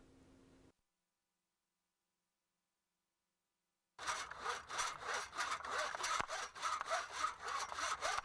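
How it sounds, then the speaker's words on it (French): A hand saw cuts wooden rafters at 45-degree angles for a deck and pergola frame, its rhythmic back-and-forth strokes close and steady after a few seconds of silence. "Toutes les coupes de raccordement doivent être réalisées à 45 degrés."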